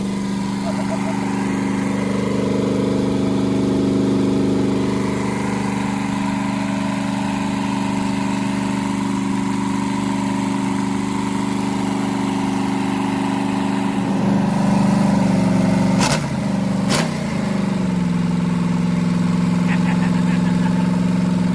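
A 289 engine running just after its first start, a steady even idle humming close by, with a brief rise in revs and a couple of sharp knocks toward the end.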